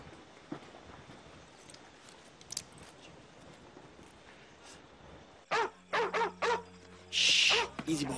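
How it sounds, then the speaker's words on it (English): Quiet ambience, then a dog barks several times in quick succession close by, followed by a longer, louder bark or yelp. "Shut up, quit your barking."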